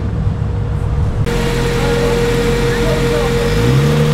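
A Holden VL Calais pulls away from a large muscle car meet in Tempe, its engine a steady, loud, close drone that rises in pitch toward the end, with voices talking over it.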